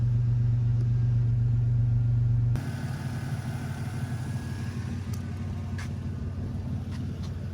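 A vehicle engine idles close by while warming up, a steady low rumble that drops in pitch and loudness partway through as the idle settles, with a few faint clicks and squeaks over it.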